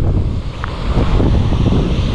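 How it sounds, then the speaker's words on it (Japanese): Strong wind buffets the microphone beside a rough, stormy sea, with a loud continuous roar of gusts and crashing surf. "今日の海はね、風と同じようにすごい荒れてます"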